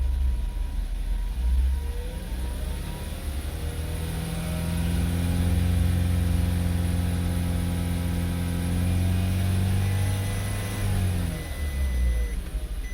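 A Volkswagen TSI petrol engine climbs steadily from idle to about 2000 rpm, holds there with a smooth, even hum, then drops back toward idle, heard up close with no talking.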